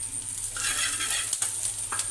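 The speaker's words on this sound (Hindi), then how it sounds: "कुछ देर हम इसे ऐसे ही सॉटे करेंगे" Continuous frying sizzle from a pan as ingredients for marinara sauce are sautéed and stirred, a steady close hiss with a few soft clicks of a utensil against the pan, no voices.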